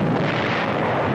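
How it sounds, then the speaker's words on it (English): Artillery fire on the 1945 San Pietro battlefield in Italy rumbles as a dense, continuous roar of distant blasts, thick and low with no distinct breaks, heard alone without narration. "Our own artillery was brought to fall within 100 yards of our frontline elements."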